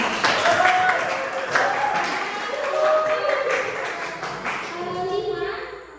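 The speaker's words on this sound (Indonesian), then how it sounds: "beri tepuk tangan kepada kelompok 3" Classmates applaud a student group during a chemistry lesson in an Indonesian classroom: steady, scattered hand clapping runs through the whole stretch, with children's and adult voices talking over it.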